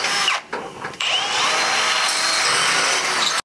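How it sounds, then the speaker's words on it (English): Power drill boring out bolt holes in steel for a 3/4 drop kit on a Squarebody Chevrolet C30 truck, a loud steady whine that dips briefly twice near the start, then runs continuously close up with no talk. "and just drilling these out."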